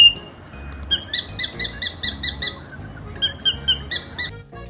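A drongo calls loudly and close, a rapid series of sharp, harsh-yet-sweet rhythmic notes in two bursts separated by a short pause, mixed with squeaky chirps and no voices.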